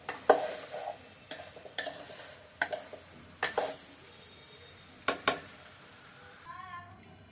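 Vegetables and paneer are stirred in a cooking pan. Irregular scraping and clinking strokes sound close over a soft sizzle, then the clatter fades near the end.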